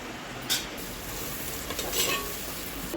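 Curry leaves fry in hot oil while being stirred, a steady close sizzle with a couple of brief scraping clinks from the pan.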